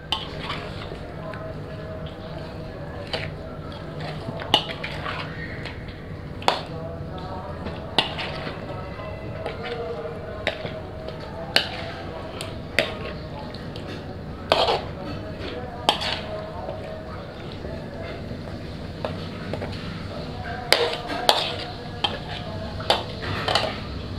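Chicken being mixed in a pot with ginger-garlic-green chilli paste and yogurt for a degi-style korma, with repeated spoon-on-metal clinks and scraping at an irregular pace over a soft background hum.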